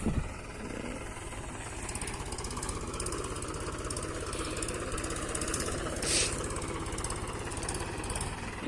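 A Mahindra 275 tractor engine runs steadily and fairly close during off-road driving, with a constant low throbbing drone that holds an even level throughout, with no talk over it.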